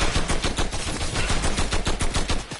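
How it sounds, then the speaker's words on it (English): In a video game firefight, loud rapid machine-gun bursts rattle continuously with sharp overlapping shots and no voices. "This is an annoying gun battle."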